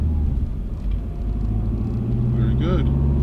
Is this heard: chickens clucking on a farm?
no